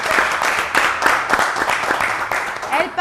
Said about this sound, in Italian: facciamo un applauso, dai, perché facciamo l'applauso